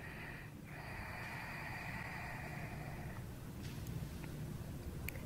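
Steady, loud breathing through the nose during a yoga core-training pose, long continuous inhales and exhales with a soft hissing, snorting texture, close to the listener and with no talking.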